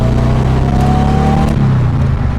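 A supercharged 1600cc VW Karmann Ghia engine with an AMR500 supercharger revs loudly and up close, a continuous droning roar that rises and eases slightly, with no talking.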